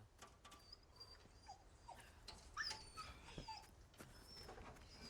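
A dog in Resident Evil 4 Remake whimpers and yips faintly in short, scattered cries. They sit over a quiet ambient game background.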